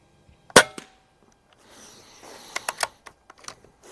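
A Crosman 3622 air gun fires one sharp, close crack, followed by lighter clicks and mechanical handling noises as it is reloaded and cycled, with no talking.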